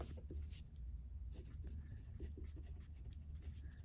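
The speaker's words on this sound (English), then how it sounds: "Let me just write it down for you so I can remember." A pen scratches steadily on paper up close, continuous scribbling strokes under a low background hum at a quiet level.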